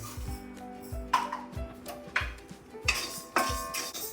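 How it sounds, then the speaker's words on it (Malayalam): Sun-dried rice is dry-roasted in an iron wok, stirred with a metal spoon that scrapes and clinks against the pan in an uneven rhythm of close, moderately quiet strokes, with no talking. "കുറച്ച് അരി വറുത്തിട്ട് കൊടുക്കാം"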